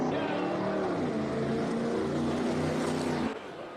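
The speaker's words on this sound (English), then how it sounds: "Little Alfa Romeo." A little classic Alfa Romeo racing up a hillclimb course, its engine note steady and loud with a busy harmonic whine before dropping off abruptly near the end.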